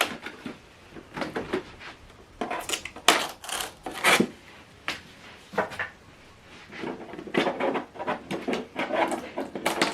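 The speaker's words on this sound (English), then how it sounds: "if you want to open this printer, put your hand by the side to lift" Plastic lid of an Epson EcoTank ET-8550 inkjet printer lifted open, a series of close clicks, creaks and knocking handling noises in uneven bursts.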